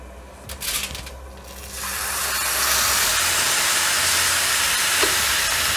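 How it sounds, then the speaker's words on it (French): Broth splashes into a hot pan of pilaf rice cooking for a squid dish, and a loud broad hiss of steam rises and holds steady for several seconds after a few brief clatters at the start. "Là, je vais juste mouiller avec le bouillon."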